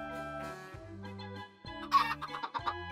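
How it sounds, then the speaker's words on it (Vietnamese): A chicken in Minecraft clucks in a quick run of short, tonal calls, several in a row with brief gaps, fairly close and clear, with no speech. "Mang gà này nguy hiểm nha mọi người"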